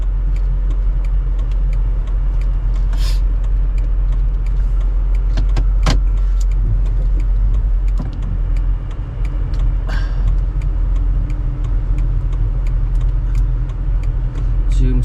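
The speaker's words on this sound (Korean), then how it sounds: "지금 제가 시운전을 해보고 있잖아요." Steady low engine and road rumble from inside a used car on a test drive, continuous and fairly loud, with a few faint clicks and rattles in the cabin.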